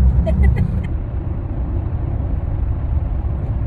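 Inside a car while driving, a steady low road and engine rumble fills the cabin throughout, with a few small clicks at the very start.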